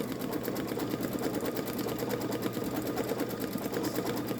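A Babylock Solaris Vision embroidery machine stitches at a lower programmed speed with a fast, even mechanical chatter of needle strokes, moderately quiet and continuous with no voices.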